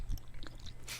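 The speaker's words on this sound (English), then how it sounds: "This is just gonna be like an ASMR of us chewing." Close, soft chewing and crunching of a strawberry snack in people's mouths, quiet irregular bites with a brief louder crunch near the start and a hiss near the end.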